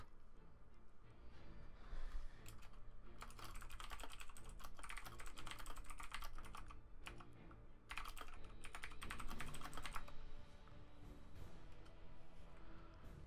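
Rapid clattering keystrokes on a computer keyboard, bursts of dense typing with short pauses between them, fairly close but quiet, with no speech over it.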